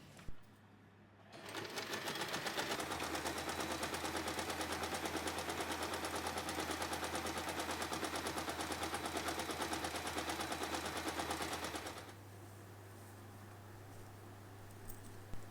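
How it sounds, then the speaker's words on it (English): A sewing machine stitches across a strap near a swivel hook on a phone pouch wristlet, a steady rapid needle chatter running about ten seconds before stopping, with motor hum before and after. "Slide this part near the swivel hook and sew across the strap to lock it in place."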